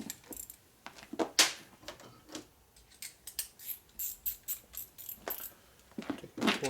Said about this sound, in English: Take my quarter drive ratchet.